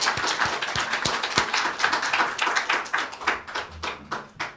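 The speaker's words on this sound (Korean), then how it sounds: "박수로 감사합니다" A church congregation applauding at a New Year's Eve service, a brief, moderately close burst of rapid, uneven hand claps that continues for a few seconds.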